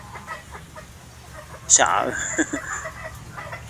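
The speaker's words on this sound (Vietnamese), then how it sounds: "cho gà, mấy con gà mái ăn nè" Hens in a Vietnamese backyard feeding, giving brief soft clucks and a sharp call under a person talking nearby.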